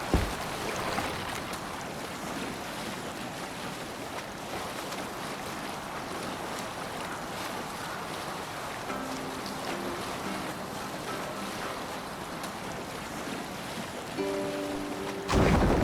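A longship sailing on water in Assassin's Creed Valhalla, with steady wash of waves and wind against the hull, constant and fairly loud, a few faint tonal notes near the end.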